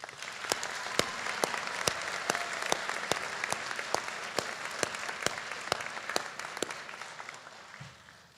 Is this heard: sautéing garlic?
no